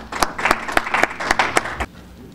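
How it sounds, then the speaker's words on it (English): An audience at a film festival panel gives a short round of applause, with sharp, fairly close claps that thin out and stop after about two seconds. "So let's get a round of applause for Arthur"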